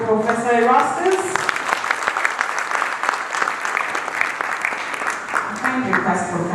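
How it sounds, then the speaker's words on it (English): A round of applause at the Kenya National Food Systems Summit for Professor Erastus: crisp, uneven hand claps from a hall audience with a voice speaking over them at the start and end. "Round of applause for Professor Erastus"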